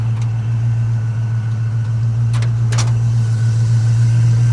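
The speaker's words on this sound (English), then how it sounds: "GM 350 crate engine" A 1982 Chevy K10 square-body 4x4 pickup with a GM 350 crate engine and aluminum cylinder heads idles steadily, a loud continuous low rumble close by, with a couple of brief higher clicks partway through.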